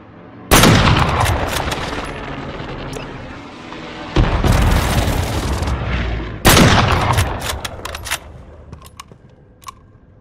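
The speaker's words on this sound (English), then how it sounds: "Allied precision airstrike incoming" Allied precision airstrike in Call of Duty Warzone: three loud, close, booming blasts arrive several seconds apart. Each breaks into a crackling rumble that slowly fades before the next hits.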